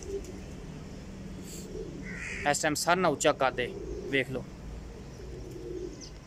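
Golden high-flying pigeons coo softly in low, droning tones at the start and end, while someone talks over them in the middle at close range.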